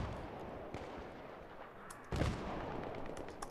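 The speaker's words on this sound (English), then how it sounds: "this guy's just using the mortars the whole game" Mortar fire in Battlefield 3 multiplayer on the Seine Crossing map, a steady wash of distant battlefield rumble with scattered far-off blasts and one heavier, louder impact near the middle.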